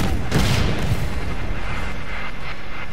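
A loud, booming explosives blast in The Division 2, with a deep rumble and crackling debris that keeps echoing across the whole moment.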